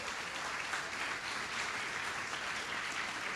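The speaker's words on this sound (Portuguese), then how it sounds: "eu gostaria de pedir, inclusive, palmas, né, para a Ivone" Audience clapping at the opening of an international conference on participation, democracy and public policy, a steady, moderately distant patter of many hands that holds evenly for a few seconds with no voices.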